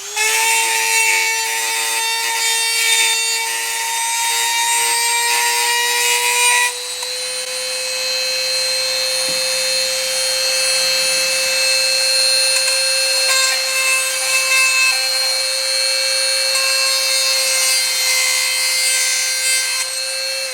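An EzzDoo electric chainsaw sharpener grinding chainsaw teeth, a steady high-pitched motor whine with a bright metallic grinding layer that drops off partway through, leaving the motor tone running on alone, close and fairly loud.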